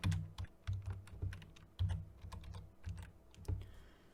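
Keys clatter on a computer keyboard while a dollar amount is typed in, short bursts of close, crisp clicks in an irregular rhythm with brief pauses between groups.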